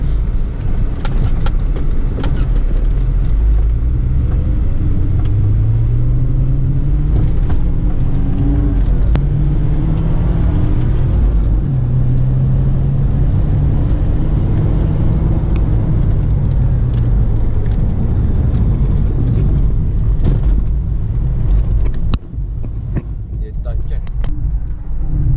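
A supercharged four-cylinder Mercedes C180 coupé is heard from inside the cabin as it drives, with a loud, continuous engine drone that rises and falls and steady wind and road noise throughout.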